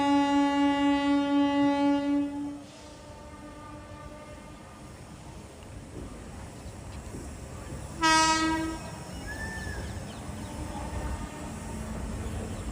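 A passenger train near Kota sounds a loud, sustained horn blast, then a second shorter blast about six seconds later, over a steady rumble of rolling railcars.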